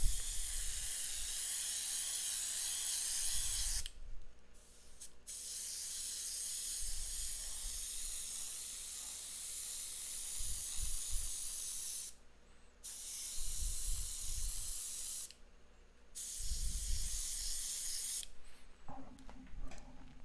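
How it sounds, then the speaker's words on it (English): Airbrush spraying paint, a close, steady airy hiss in several long bursts separated by brief pauses, with faint low handling noises between the sprays. "I'm just flicking the airbrush to kind of get some extra little grit in there"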